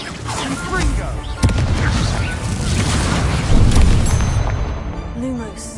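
Confringo fire blast spells cast in the Hogwarts Legacy video game: a sharp blast at about 1.5 seconds, then a louder booming burst near 3.5 seconds, over continuous game noise and a spoken voice.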